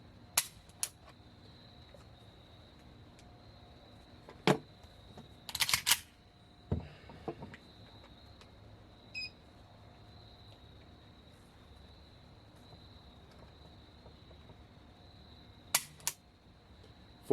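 A gun trigger is pulled during a trigger pull weight test, giving a few sharp, isolated clicks spread across an otherwise quiet stretch.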